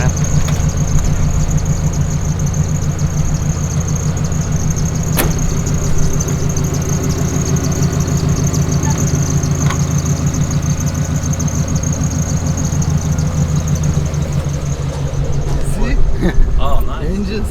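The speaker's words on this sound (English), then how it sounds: "Engine start. Oh, it's got the push button." A Peterbilt 389 truck's diesel engine, started with a push button, runs loud and steady at a low idle throughout, with a brief sharp transient near the start and people talking over it.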